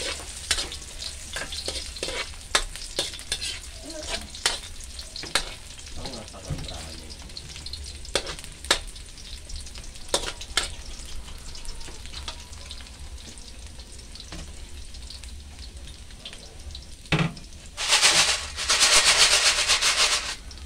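Snails crackle and sizzle in a hot pan with scattered pops and stirring scrapes, then a loud burst of hissing frying near the end.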